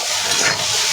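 Noodles fry in a pan with a steady, close sizzle and hiss that carries on without a break while they are stirred. No one speaks.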